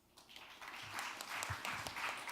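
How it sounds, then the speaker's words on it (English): Audience applause at an economics conference session, starting faint and quickly swelling into a fairly quiet but steady patter of many hands clapping. "please welcome him with a big round of applause"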